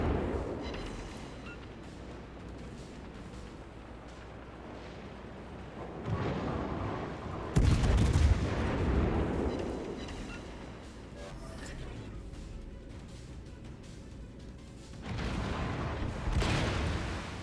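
Large-calibre shells fire and explode in a video game, heavy booming blasts landing in bursts with a sharp loud hit near the middle, under a streamer's excited talk.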